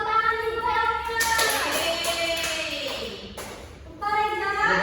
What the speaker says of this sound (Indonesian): tepuk tangan juga ya Aulia.